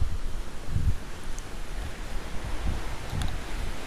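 Trews Falls in Spencer Gorge, a waterfall partly iced over in winter, rushes as a steady broadband roar heard from the top, with gusts of wind buffeting the microphone.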